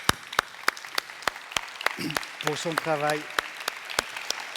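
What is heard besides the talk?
audience applauding a team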